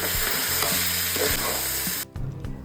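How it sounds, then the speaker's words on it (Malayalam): Soaked rice and vegetables fry in a pressure cooker for one-pot fried rice, a steady bright sizzle with rhythmic scraping thuds of a spoon stirring, then the sizzle cuts off abruptly near the end, leaving quieter clinks. "കുതിർത്ത അരി ചേർത്ത് ചെറുതായി ഒന്ന് വറുത്തെടുക്കാം."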